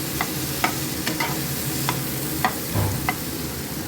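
Potatoes and papaya sautéing in a pan for a potato-papaya curry: a steady oily sizzle broken by several sharp scrapes and taps of a spatula stirring the pieces.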